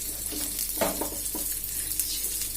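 Garlic and shallots frying in a pan, a continuous bright sizzle with a few soft scraping stirs, close and fairly loud throughout.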